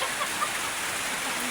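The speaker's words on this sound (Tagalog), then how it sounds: "Magalakas-lakas ang ulan dito." Heavy rain falling outdoors, a dense, even hiss of steady downpour throughout, with no voices over it.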